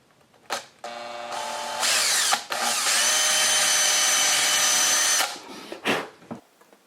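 A power drill drives an oversized screw into a Kennedy metal machinist tool box, whirring loudly in two bursts of about one and four seconds, with short clicks and knocks around them.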